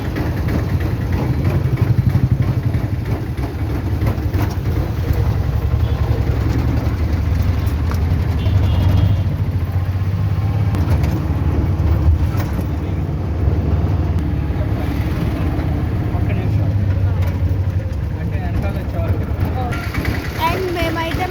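An auto rickshaw engine idles and runs with a steady low rumble, close by and continuous, on a night street with people talking over it.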